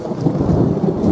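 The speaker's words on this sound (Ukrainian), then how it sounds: "Слухаємо грім" Deep rolling thunder rumbles continuously and loudly, a low heavy roar with no voices.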